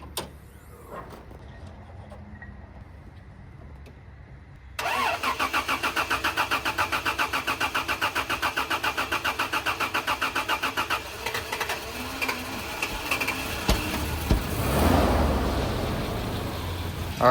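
After a few quiet seconds of faint clicks, an 80 Series Land Cruiser, fresh spark plugs fitted in cold weather, cranks briefly and catches. It settles into a steady, throbbing idle, then swells in a short rev near the end.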